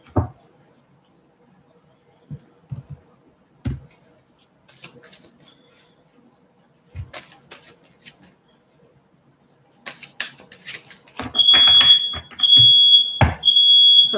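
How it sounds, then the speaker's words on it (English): A home smoke alarm in need of repair chirps in repeated high, piercing beeps, loud and close, sounding in a steady series toward the end after a mostly quiet stretch with a few scattered bumps and knocks. "That's my smoke alarm. It needs to be fixed."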